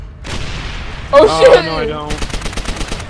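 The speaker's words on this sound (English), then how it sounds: "Oh god, it's firing right around me." Call of Duty: World at War combat with a tank firing and gunfire nearby, heavy shots and a burst of rapid rattling, while a person exclaims over it.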